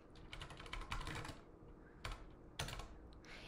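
Keys clatter on a computer keyboard in quick bursts of taps, with short pauses and a couple of sharper single presses, close and fairly quiet.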